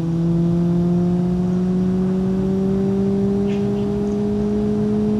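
Turbocharged, blown drag car engine in BeamNG.Drive, held at a steady, loud high drone with a slowly rising pitch and a constant turbo whir, with no talk over it.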